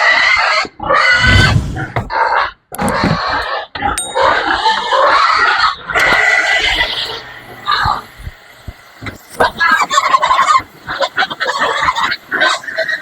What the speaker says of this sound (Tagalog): samahan niyo muna ako magpapakain sa mga baboy ko dahil oras na po ngayon ng kain